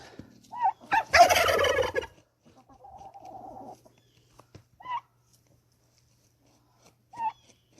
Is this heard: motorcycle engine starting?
no